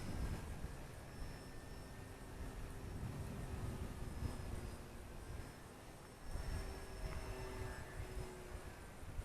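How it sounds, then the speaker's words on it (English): A small RC Fun Cub model airplane, 1100 mm wingspan, driven by a 2212 1400 kV electric motor, flies steadily at a distance, its thin motor whine holding faint and even over wind noise. "Boy, I have a hard time getting out of the throttle with this plane."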